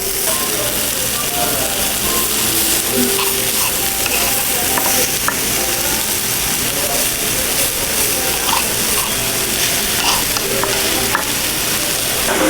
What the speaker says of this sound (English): listen to the steak sear on this stone